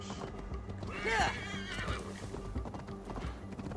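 A horse clip-clops steadily in the video game Assassin's Creed Valhalla and gives a short whinny midway, under quiet background game sound.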